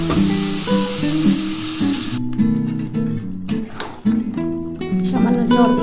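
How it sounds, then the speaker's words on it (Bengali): Mutton sautés in a pan as splashes of hot water are added for a mutton and potato curry, giving a loud, close sizzle and spatter, with a bout of hissing steam and a strong hum running underneath. "তো আমি অল্প অল্প করে জল দিয়ে কষিয়ে নেব।"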